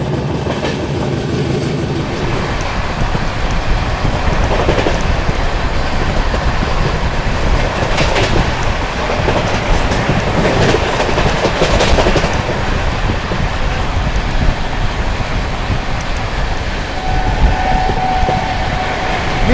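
Ranchi Garib Rath express train 12877 running at about 130 km/h, a loud continuous rumble of wheels and wagons with rhythmic clickety-clack over rail joints, heard close from on board for the whole stretch.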